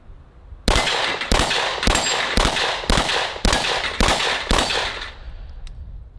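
Seven loud handgun shots fired at a steady, evenly spaced pace at an outdoor range, a pistol with a red dot sight aimed at targets 15 to 20 yards away, each report sharp and close with a brief ringing metallic clang.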